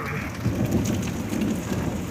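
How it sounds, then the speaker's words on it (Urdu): Steady rain falls in a continuous, dense hiss with a low rumbling undertone, loud and even throughout, with no voices. "بارشیں تو آ رہی ہیں ماشاءاللہ سے"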